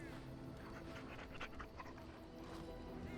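A dog panting in the video game Dragon Age: Origins, soft rhythmic breathy huffs with a faint whimper, moderately close and low in level over a steady game background hum.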